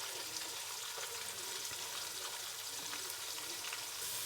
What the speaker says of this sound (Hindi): तो चले इसको अब हम ब्राउन करेंगे प्याज को, फिर दूसरी चीज़ें डालेंगे।